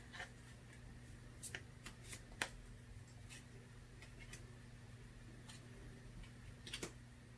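Soft, sparse clicks and card flicks sound as tarot cards are shuffled and drawn, faint and close in a quiet room, scattered irregularly over several seconds without talk.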